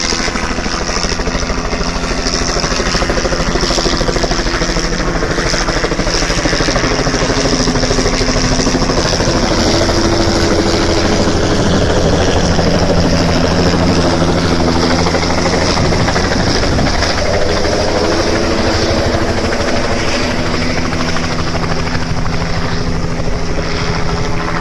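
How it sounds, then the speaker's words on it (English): A helicopter coming in to land at a kite festival in Wichita, its rotor thumping loud and constant for the whole stretch, close and dominant with no talk over it. "Comes the helicopter,"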